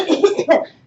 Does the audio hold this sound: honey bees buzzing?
no